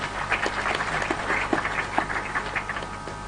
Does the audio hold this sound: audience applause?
yes